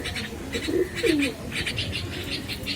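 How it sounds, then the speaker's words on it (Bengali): A pair of young white golden pigeons coo softly and repeatedly at close range, with faint fluttering and light chirps over a quiet background. "আমি ছেড়ে দেখাচ্ছি কবুতর দুইটা আপনাদের।"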